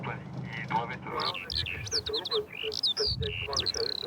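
Birds chirp and call across the open airfield at Orly airport, where pigeons and crows are about, with a string of short bright tweets and a few harsher notes in the second half over low outdoor noise.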